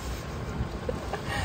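A boat's engine runs steadily while the boat moves through a busy channel on open water, giving a continuous low rumble blended with wind noise across the whole moment.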